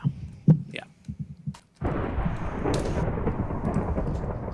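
Rain and rumbling thunder in the Minecraft video game: a few low thumps and a brief pause, then a steady, fairly loud rush of rain with deep rolling rumble under it.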